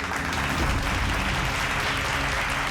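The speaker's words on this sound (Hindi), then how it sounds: "जोरदार तालियां इनके लिए।" Steady, dense applause from a large audience at a jewellers' stage function, filling the whole stretch at an even level with no talk over it.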